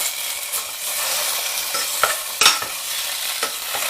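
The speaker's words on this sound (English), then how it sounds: "And we're going to give that a good mix around." Vegetables and tomatoes fry in a pot while being stirred, with a bright continuous sizzle and several distinct scraping strokes of the spoon.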